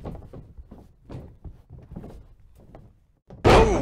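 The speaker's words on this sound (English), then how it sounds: "Ring rattling!" A wrestling ring in WWE 2K21 rattles under a string of short, hollow thumps and knocks, ending in one loud, sharp crash close up.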